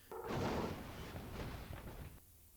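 An explosion during a film car crash stunt with a cannon roll, heard as a broad muffled boom that swells and fades over about two seconds, fairly faint and alone.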